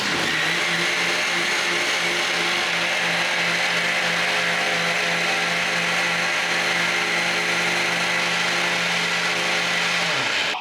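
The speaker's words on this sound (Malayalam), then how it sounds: "മിക്സി ജാർ മിക്സിയിലിട്ടൊന്ന് അടിക്കും." A mixer grinder whirs steadily at full speed, churning cream with water to make butter for ghee, loud and close, with a constant motor drone that cuts off abruptly at the end.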